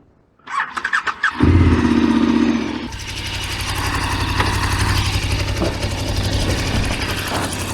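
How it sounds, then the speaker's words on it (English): Motorcycle being started on a hot 35-degree day: a few sputtering cranks and a brief squealing whir, then the engine catches and settles into a loud, steady idle, close by with no talk. "This is how we've been starting the bike."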